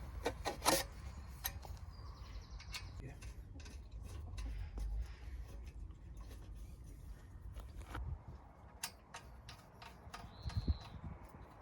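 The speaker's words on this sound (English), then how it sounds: "So now we need to connect it all together with the joints and the bolts." Bolts screwed by hand into the joints of a fox- and rat-proof chicken run give close, scattered clicks and short rasping scrapes of metal on metal over a low outdoor rumble.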